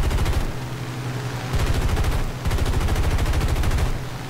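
P-40 machine guns fire during an arcade dogfight in War Thunder: loud, rapid, sustained bursts with a brief lull between them, close and dense, with no talk.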